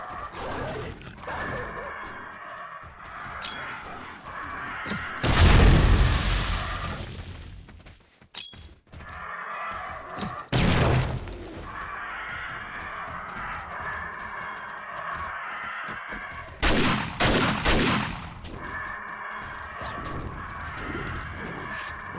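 Pulse grenades in the 7 Days to Die zombie survival game go off as three separate loud blasts spread across the stretch, each a sharp burst with a rumbling tail, between quieter stretches of background game noise.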